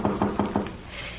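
Four quick, evenly spaced knocks on a door in a 1950s radio drama adaptation of Northanger Abbey, close and crisp, followed by a faint room hush.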